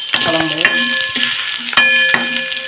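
Onion and a piece of mango sauté in hot oil with a loud, close sizzle, broken by repeated metallic ladle scrapes and clinks against the pan as it is stirred. No one speaks.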